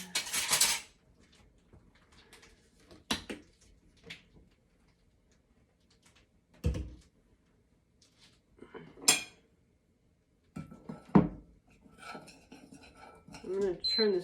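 A spoon stirs Cambrooke sausage patty powder mix in a bowl, giving a few sparse clinks and scrapes separated by quiet pauses.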